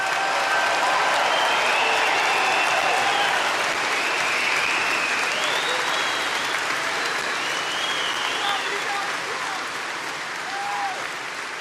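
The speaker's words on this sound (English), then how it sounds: "we want to give them a big, big, beautiful round of applause" A big crowd at an NRA convention keynote applauds veterans in the audience, a loud, dense, sustained roar of clapping with some cheering mixed in, holding steady throughout.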